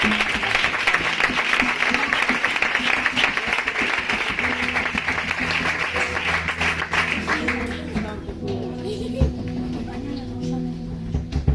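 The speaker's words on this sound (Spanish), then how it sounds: "Dale fuerte el aplauso a Dios, por favor." A church congregation applauds loudly for several seconds, dense clapping that fades out near the end, with a voice speaking over it and continuing as the clapping dies down.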